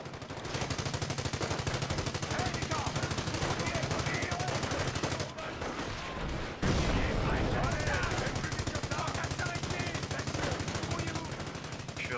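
Dense machine-gun fire and artillery rattle continuously in Company of Heroes, a rapid unbroken barrage with a heavy burst midway, loud and close.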